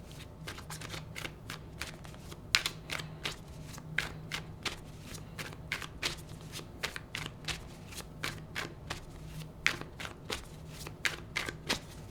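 Tarot cards are shuffled by hand close up in a long run of quick, crisp riffling and flicking bursts that repeat at a steady pace, with no talking.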